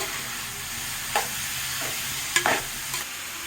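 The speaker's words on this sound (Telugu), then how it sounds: "ఇది మిక్స్ చేసుకొని ఈ క్యాబేజ్ కూడా ఫ్రై అయ్యేలాగా కొంచెం ఫ్రై చేసుకోవాలండి." Cabbage fries in a pan with a soft, steady sizzle while a utensil stirs it, giving a few quick scraping strokes near the end. No one speaks.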